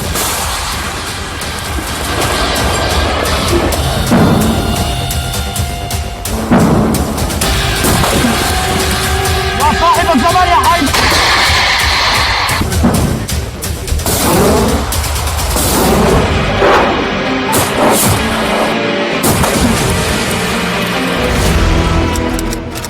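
Missiles launched one after another in a Hezbollah attack, giving dense, continuous booms, rumbles and blasts that fill the whole stretch at high volume with no pauses.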